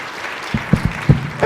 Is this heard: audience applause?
yes